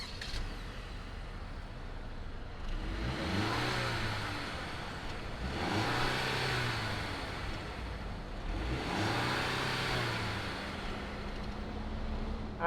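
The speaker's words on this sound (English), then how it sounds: "why don't we go ahead and hear what does that fake exhaust sound like?" 2020 Mercedes-Benz GLC 300 engine revved with its simulated exhaust sound, three repeated surges that climb in pitch and drop back, loud and close, over a steady idle hum without talking.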